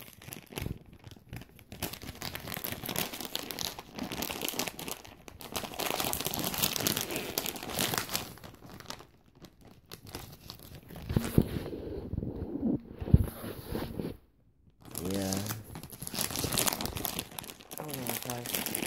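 A candy wrapper being struggled with and torn open, close crinkling and tearing plastic in long uneven bursts with brief pauses, a few sharper snaps, and speech mixed in at times.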